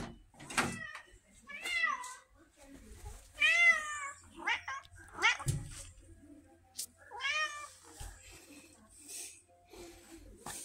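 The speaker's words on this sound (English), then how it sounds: "I'm going to introduce you to Pumpkin, the tabby who thinks she's a Siamese." A red tabby cat with a Siamese-like personality meows repeatedly in long, wavering, drawn-out cries, close and clear, with a person talking softly between the calls.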